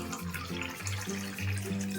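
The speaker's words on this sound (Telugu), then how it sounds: "నీళ్ళు వేసుకొని ఒకసారి కడుగుదామండి." Water pours into a vessel to rinse drink ingredients, a short, fairly quiet burst of splashing and gurgling with uneven surges and no speech.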